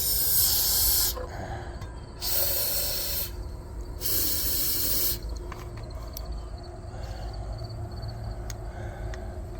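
Stabil fogging oil is sprayed into an old junkyard boat motor in three loud, hissing aerosol bursts, each about a second long, followed by quieter background rumble and small clicks.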